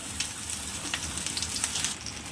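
Cut raw mango pieces fry in hot oil with panch phoron, giving a faint, steady sizzle with scattered crackles and a light stirring texture.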